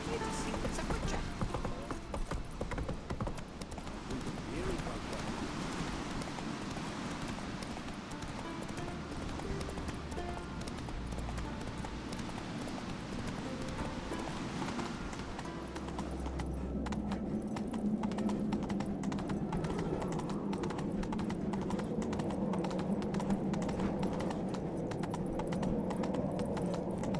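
Roach, a horse in The Witcher 3 video game, gallops with steady rhythmic clip-clop hoof beats, close and loud throughout over a low game background, with voices talking at times.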